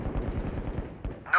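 Gunfire in a video game: a quick, dense burst of rapid shots over about a second and a half, fairly quiet, ending in a sharper crack.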